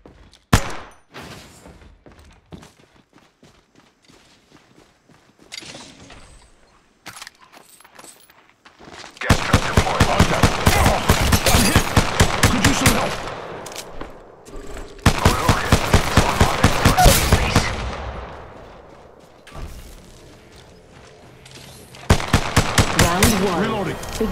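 Rapid automatic gunfire from an Apex Legends match rattles in several long, loud bursts separated by brief pauses, with quieter single shots and game noises earlier on.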